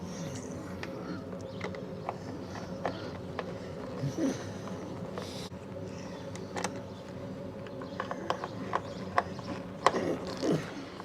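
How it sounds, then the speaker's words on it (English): Phillips screws are loosened on the motor grill of a Shopsmith DC-3300 dust collector. Quiet, irregular clicks, taps and small scraping sounds from the screwdriver and metal parts rise over a low background hum. "underneath this motor grill, they call this, there's a couple Phillips screws I have to loosen there too"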